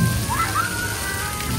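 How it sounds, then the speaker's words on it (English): Rain falling at Universal Orlando theme park, a steady dense hiss filling the scene, with a faint whistling or tonal sound drifting through in the background. "It's raining!"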